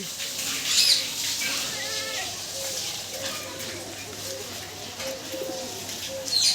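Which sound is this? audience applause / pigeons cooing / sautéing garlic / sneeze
pigeons cooing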